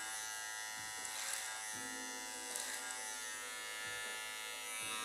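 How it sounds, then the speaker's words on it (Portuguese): An electric hair clipper cuts hair over a comb during a step-by-step mohawk fade haircut. It gives a steady close buzz throughout, with small dips and rises as the blade passes through the hair and repeated short strokes. "Tudo que o Clipper Overcomb tira"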